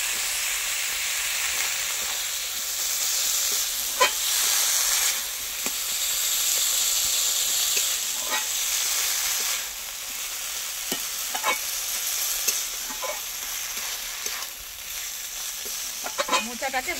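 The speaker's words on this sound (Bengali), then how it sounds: "মোচাটাকে ভালো করে মশলার সঙ্গে ভেজে নিতে হবে" Banana flower sizzles in a pan with spices while being stirred, for a banana flower and prawn chop. A continuous soft frying hiss runs throughout, with scattered spoon scrapes and taps, and no one speaks.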